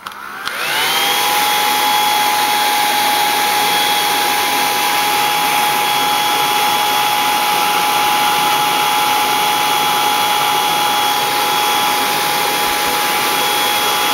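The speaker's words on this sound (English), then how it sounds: "So pardon my blow dryer." A blow dryer starts up and runs without pause, aimed at painted work to dry it before a sticker comes off. Its loud, steady whirring hum stays constant at close range the whole time, with no voices over it.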